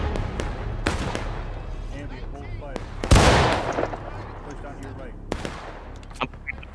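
Artillery cannon fire in War of Rights, a Civil War battle game, with one heavy blast landing around the middle and a few sharper distant reports scattered through, under a steady low rumble of battlefield noise and faint voices.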